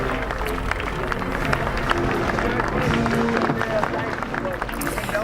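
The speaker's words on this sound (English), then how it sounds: "And you can hear that applause." A large outdoor crowd at a presidential inauguration applauds and murmurs, a diffuse, distant wash of clapping and babble with voices talking over it.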